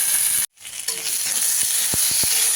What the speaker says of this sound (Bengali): মশলাটা কষানো হয়ে গেছে আলু বেগুনের সাথে।